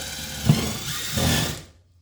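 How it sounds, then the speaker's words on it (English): A drill driver with a pre-drilling bit bores a screw hole in a workshop, giving a short motor whir that rises twice over about a second and a half, then cuts off into silence. "with our Montana Brands drill driver bit, we're going to pre-drill"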